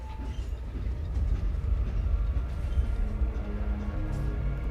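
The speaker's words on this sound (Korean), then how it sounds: "어, 열차가 출발한다." A train departs in the video game Project: Playtime, a loud rumbling rail roll with low mechanical drone and faint clacking that stays steady and close throughout.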